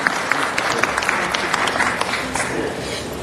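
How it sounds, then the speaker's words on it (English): An audience at a city council meeting applauds an ambassador, producing dense, steady clapping that stays close and fairly loud throughout, with no speech over it. "So let's give Dr. Kwame Aduse a round of applause."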